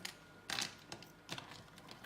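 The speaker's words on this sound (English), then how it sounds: "we've got some little keys here" Small keys are handled close by, giving a few quick metallic clicks and jingles in short bursts, with a louder cluster near the start and lighter taps after it, with no talking.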